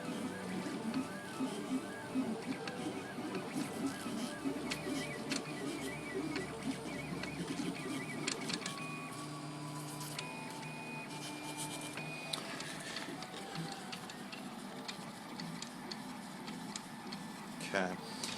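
A RepRap 3D printer extrudes plastic while its stepper motor drives a belt back and forth along rails, giving a steady run of soft ticking, whirring motor tones throughout.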